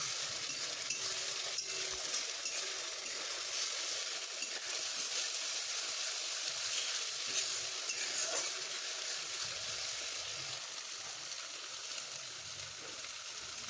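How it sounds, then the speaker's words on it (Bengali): Ginger-garlic paste and spices stir-fry in hot oil for mutton khichuri, a steady soft sizzle with occasional scrapes of a spoon in the pan, continuous and fairly quiet with no talking. "এবার ভালো করে কষে নিতে হবে যতক্ষণ না তেল ছাড়ছে।"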